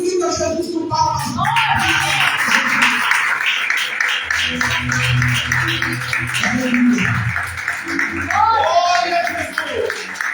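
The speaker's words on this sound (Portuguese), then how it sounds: "Glorifica Jesus com palmas." A church congregation claps in praise of Jesus during a worship service, a steady, moderately loud patter running under voices that call out and speak throughout.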